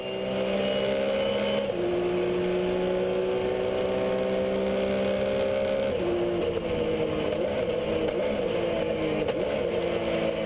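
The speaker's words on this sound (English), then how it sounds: "On board with number 20 in the Porsche GT3 Cup S." Onboard a Porsche GT3 Cup S race car at the start of the Dubai 24 Hours: a loud, steady engine drone climbing through the gears, with pitch drops at each shift and no talk.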